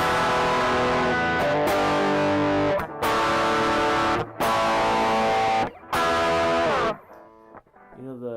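An electric guitar plays through a ProCo Rat–style distortion on a Boss ME-50 multi-effects unit, heavy saturated chords ringing in long sustained blocks with brief cut-offs, then a cleaner decaying tail at the end.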